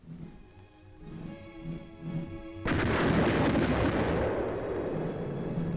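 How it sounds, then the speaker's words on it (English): Artillery and explosions boom during a military combat exercise assaulting a hill position, with distant thuds giving way to a sudden loud blast that leaves a sustained roaring rumble. "Fighting with artillery and tank support, actually attacking a hill position."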